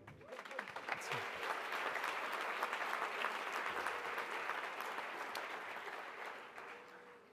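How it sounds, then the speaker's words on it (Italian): Warm, sustained applause fills a hall for Mario Draghi, President of the European Central Bank, at an honorary degree ceremony, a dense steady roar of many hands clapping alone, fading slightly at the end. "lasciatemi dire quanto vi ringrazio di questo applauso così caldo"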